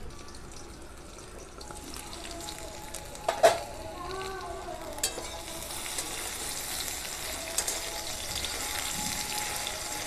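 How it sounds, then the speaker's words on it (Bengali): Drumstick pieces frying in a pan on a home stove make a faint, steady sizzle close by, with one brief clatter near the start and no voices. "ভাজা ভাজা হয়ে আসছে।"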